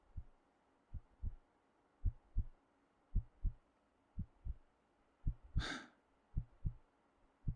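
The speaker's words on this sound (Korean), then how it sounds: "심장 박동이 빨라지고" A heartbeat sound effect plays soft, low lub-dub double thumps at a steady pace of roughly one per second, with a brief breathy rush partway through and no talking.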